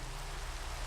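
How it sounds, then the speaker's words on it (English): Steady rain falling in the blocky survival world of a Minecraft Skyblock modpack, a soft continuous hiss with low rumbling texture, constant and even throughout with no voices. "Oh my god, it always rains here."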